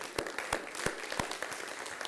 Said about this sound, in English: That's maybe that's worthy of a round of applause here for Heather and team